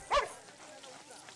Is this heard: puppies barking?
yes